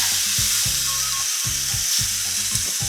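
Beef pieces for a Thai beef salad sizzling in a hot pan over medium heat as they are flipped, a loud, continuous close-up hiss with soft low thuds from turning and stirring.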